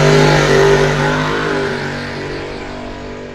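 Drag race cars at Coles County Dragway in an index racing event tearing down the strip, a loud sustained engine roar that slowly fades as the cars pull away.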